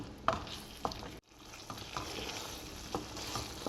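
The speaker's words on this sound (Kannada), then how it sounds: "ಈ ಹುಣಸೆ ರಸನ ಸ್ವಲ್ಪ ಬೇಯಲಿ ಹೀಗೆ ಹುರ್ಕೊಂಡು ಸಿಮ್ಮಲ್ಲಿ ಹುರ್ಕೊಳ್ಳೋಣ" Tamarind juice for coriander-leaf puliyogare frying gently on a low flame while a spoon stirs it, with soft sizzling and a few scraping strokes against the pan, one brief pause in the middle, no talking.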